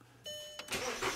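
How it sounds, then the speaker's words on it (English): A VW Rabbit engine cranks and catches after a steady hum, the starter whir rising into a loud running engine that settles close by, with no talk. "So now we're gonna lower the vehicle and start the engine."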